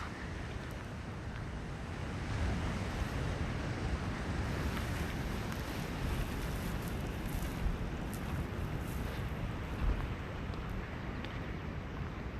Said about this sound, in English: You might be able to hear me a little bit better too as I step away from the crashing waves